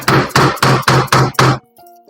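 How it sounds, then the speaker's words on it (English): A hammer drives a spline-removing chisel into the groove of an old rocking chair's cane seat, six sharp, evenly spaced blows up close, followed by a brief faint ring. "I got a little special spline removing chisel and a hammer."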